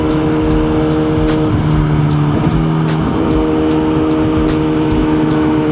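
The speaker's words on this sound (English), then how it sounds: "Let's warm these tires up." Motorbike engine running and revving steadily to warm up its tires, close and loud with a constant droning hum and slight pitch shifts throughout.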